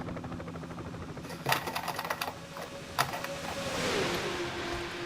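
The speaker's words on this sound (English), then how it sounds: "the engine package we have here at Daytona and Talladega both, the restrictor plate engine sound" Restrictor plate stock car engines at Daytona in a racing video game, a steady droning hum with a sharp passing burst and clicky transients, rising into a louder whine near the end.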